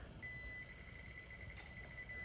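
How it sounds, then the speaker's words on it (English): A thin, high electronic beep tone from a malfunctioning electric oven that keeps tripping out sounds in quick repeated pulses, faint against a quiet room hum. "It just keeps beeping and tripping out."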